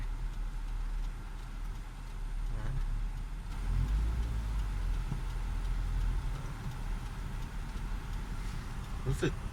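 A Nissan Cefiro being driven on the road: a steady low engine hum and road rumble from inside the car, fairly loud and continuous, swelling slightly partway through.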